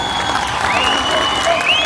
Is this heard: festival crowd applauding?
yes